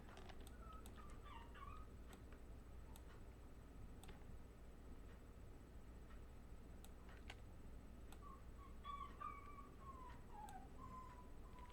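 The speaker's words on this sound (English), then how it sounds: "Sorry about the whining in the background. That's my dog." A dog whining softly in the background of a quiet room, thin high whimpers at the start and again near the end over a low steady hum, with faint ticking in between.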